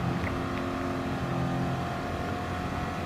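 Racing car engines in the Gran Turismo Sport game during a Nations Cup race, including a supercharged car: a steady, loud, droning engine roar with sustained tonal whine, continuous throughout with no talk.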